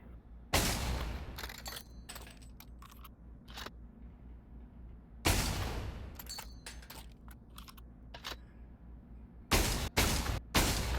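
Gunshots in a VR first-person shooter game: three loud close blasts, each followed by a scatter of sharp clicks and shorter cracks, with quiet gaps between.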